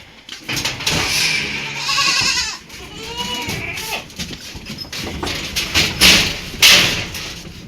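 Several goats bleat close by, overlapping wavering cries, mixed with thumps and shuffling in a busy pen on a goat farm.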